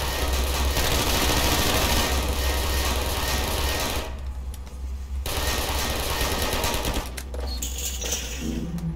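Automated turret in Half-Life 2 firing rapid, dense bursts of gunfire, loud and close, with a brief lull in the middle before the rattling fire resumes.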